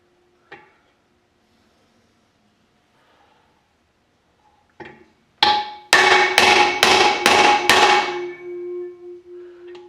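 A hammer knocking an old bearing out of a crankcase, a couple of isolated taps then a rapid series of about six loud ringing metal strikes ending in a sustained metallic ring.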